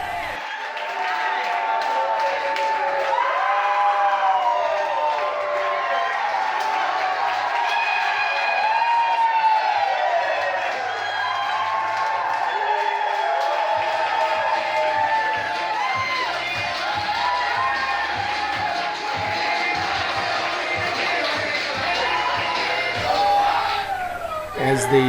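Crowd noise from people cheering on the Milwaukee Bucks during an NBA playoff win over Atlanta in downtown Minocqua, a steady dense roar of many voices and shouts with scattered claps lasting throughout.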